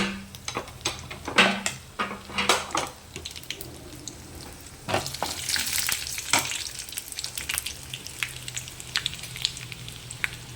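Dried red chillies crackle and sizzle in hot oil, with sharp popping spurts and stirring scrapes, plus a brief louder hiss partway through, close and fairly quiet.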